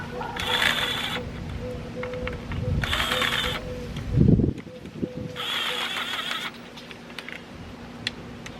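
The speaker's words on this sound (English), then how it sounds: "I'm not gonna be tightening with the gun, but I will be driving them in or seating them all the way through." A power impact gun drives drain and filter bolts during an oil change on a 2022 Honda Grom, heard in three short whirring bursts about a second long each, separated by pauses, with mechanical clanks and shop noise between.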